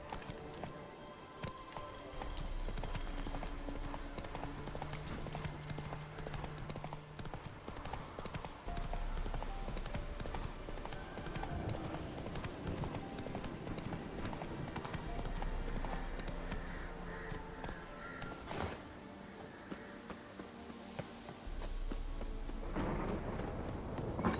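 Horse hooves clip-clop at a steady gallop throughout, loud and close, in The Witcher 3 video game, with occasional whinnies and low rumbling game ambience.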